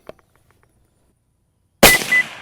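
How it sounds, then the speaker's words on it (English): A rifle shot fired while zeroing a Zeiss Conquest V4 scope: a faint click, then near silence, then a single loud, sharp report that rings out briefly. "All right, here's one more shot."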